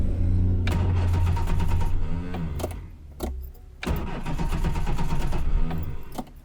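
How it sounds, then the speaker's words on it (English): The starter motor of a Reliant car cranks hard and loud, churning for several seconds, pausing briefly, then grinding on again without the engine catching. "Certainly proves the starter motor's a good one."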